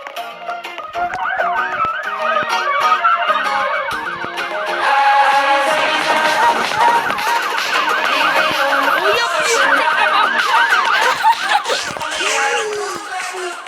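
Several police sirens in a video game sound loudly together, warbling rapidly and overlapping, with engine noise and occasional bumps underneath.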